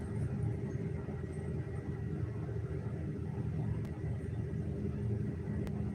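A garbage truck runs outside, producing a steady, heavy low rumble that drones on without a break, with no one speaking.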